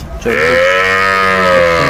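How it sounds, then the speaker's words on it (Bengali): A young Sahiwal bull calf moos loudly and close, one long drawn-out low call that holds steady for over a second. "শাহিওয়ালা ষাঁড় বাচ্চা, সুন্দর ষাঁড় বাচ্চা।"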